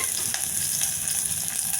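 Onions sizzle in hot oil with mustard seeds, cumin and curry leaves for a tempering, a dense, steady crackling fry with a few sharper pops and no voices.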